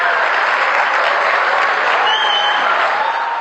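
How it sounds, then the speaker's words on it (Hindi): Audience clapping in response to a speaker's call, a loud, dense and continuous wash of applause that holds steady for several seconds. "तालियां बजाइए"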